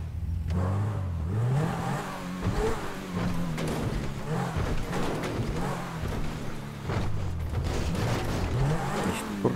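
Car engine in GTA 5 driving and revving steadily, a mid-pitched engine drone rising and falling in pitch as it accelerates, loud and continuous throughout with game ambience beneath.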